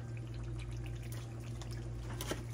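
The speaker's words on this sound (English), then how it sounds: "So I brush them off real good and then I rinse them lightly" Running tap water rinses Baby Bella mushrooms at a kitchen sink, a steady close hiss and splash with a few brief droplet spatters, no talking.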